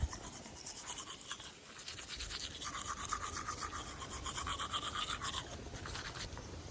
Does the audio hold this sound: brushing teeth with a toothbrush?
yes